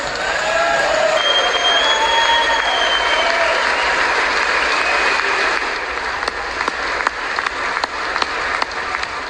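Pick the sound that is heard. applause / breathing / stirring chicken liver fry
applause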